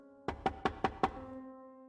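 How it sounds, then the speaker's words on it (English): Five sharp knocks on an apartment door in an even, quick rhythm, close and clear against a faint steady hum that lingers after the last rap. "I receive a knock at my door."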